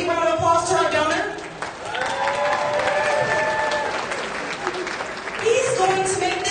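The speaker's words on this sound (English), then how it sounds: "Can we get a big round of applause to our donor?" Enthusiastic applause from a crowd at an animal shelter fundraising gala auction, loud and continuous, with voices and cheers mixed in.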